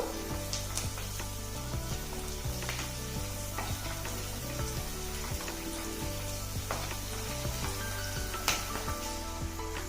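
Green chillies and curry leaves fry in hot oil with a steady, close sizzle and occasional crackles and stirring clinks, no talking.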